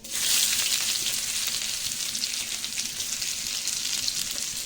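Chopped onions fry with spices and chilli in hot oil in a pan, giving a steady, close, bright sizzle with faint stirring throughout and no talking.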